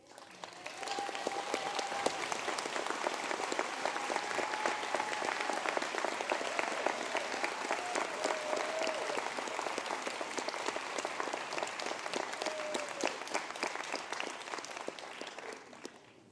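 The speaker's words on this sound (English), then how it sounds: "I ask the graduates to stand for a round of applause" Sustained audience applause fills a conferring ceremony hall at ATU Sligo as graduates stand, a steady dense clapping that starts quickly and holds evenly throughout.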